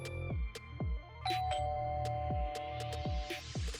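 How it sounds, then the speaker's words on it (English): A doorbell chimes in a series of ringing tones, each note sustaining with a bright decay, loud and close in an otherwise quiet room. "The doorbell rang about 5 minutes after everyone was dressed."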